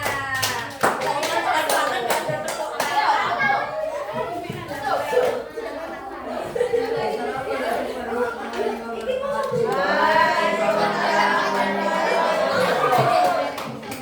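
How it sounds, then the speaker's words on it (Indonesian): Scattered hand claps from a group of children, irregular and lively, mixed with excited chatter and young voices talking over them. "Tepuk tangan buat Aska dan teman-temannya."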